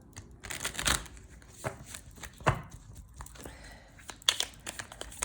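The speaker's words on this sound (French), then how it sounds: "il faut faire une coupe pour mélanger un peu tout ça" Tarot cards cut and shuffled by hand on a table, heard as a quiet run of soft riffling, slapping and papery crinkles in irregular bursts, close up, with no talk.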